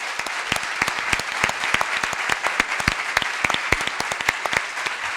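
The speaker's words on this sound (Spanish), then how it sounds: "Jaime Garzón, para quien pido un fuerte aplauso" Audience applause at a talk and documentary screening, a steady dense clapping sustained for about five seconds with no voices over it.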